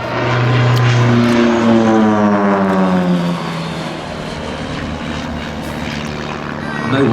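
A restored Supermarine Spitfire passes during an air show display, its piston engine a loud droning rumble whose pitch sweeps downward as the aircraft goes by and then fades to a steadier, quieter hum.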